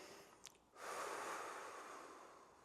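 A long, forceful exhale during a resistance band exercise, preceded by a short sniff, the breath rushing steadily and close for about two seconds before tapering off.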